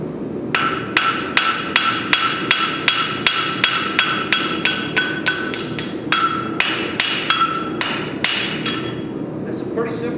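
A hammer forges the heel check into a hot horseshoe on an anvil: a rapid, steady series of sharp ringing metallic strikes, loud and close, around two per second with brief pauses.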